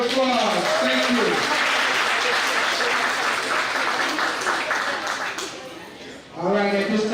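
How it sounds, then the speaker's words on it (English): A room claps for Keisha Cameron at an NFL Men in Black honoree event. A brief spoken introduction gives way to several seconds of full audience applause, which fades before a speaking voice returns. "Ladies and gentlemen, please give Keisha Cameron a round of applause"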